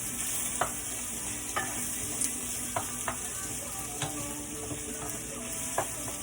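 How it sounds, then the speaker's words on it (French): Onions fry in a pan with a steady, close sizzle, broken by occasional sharp clicks of a utensil stirring against the pan; no talking. "On fait cuire jusqu'à temps que les oignons soient tendres."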